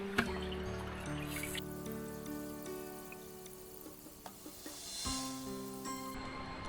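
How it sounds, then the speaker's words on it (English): Water trickles down near a stream water source on a coastal backpacking trail, a soft steady wash with faint drips, sitting under louder close-up tonal rumbling and a few sharp knocks and taps. "Oh, there's a trickle coming down over there"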